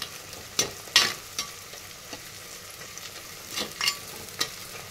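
Green chilies and onions frying in a clay pot, a soft hiss broken by several sharp crackling bursts and stirring scrapes that come at irregular moments.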